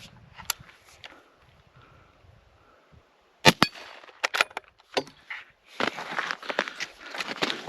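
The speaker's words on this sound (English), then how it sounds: "Let me fire this last shot." A Ruger American .308 bolt-action rifle fires a single sharp, loud report, then handling noises, clatter and outdoor rustling follow.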